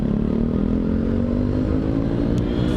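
A motorcycle engine roars loudly and steadily, revving with a rough, throaty rumble as it passes close by.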